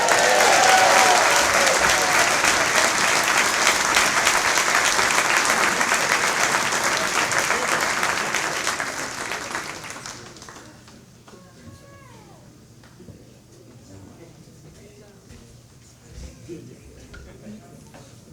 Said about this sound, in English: how about one more round of applause for this incredible Hall of Fame class?